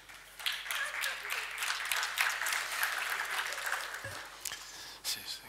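Sustained audience applause fills a Lithuanian economics conference hall at a leadership forum, a dense steady clatter of many hands that swells and eases slightly over several seconds, with no speech over it.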